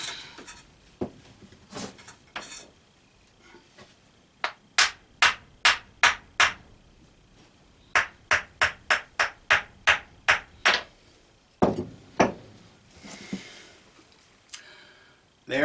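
Sharp, close hammer strikes drive a compressed black powder puck out of a vise press, coming in quick bursts of evenly spaced knocks with short pauses and some handling noise between them.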